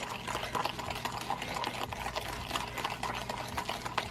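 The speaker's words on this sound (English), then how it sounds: "I've been whisking now for about 2 minutes." Hand whisking of dalgona coffee in a bowl, a fast, steady rhythmic clicking and swishing that runs without a break, close up, with no speech.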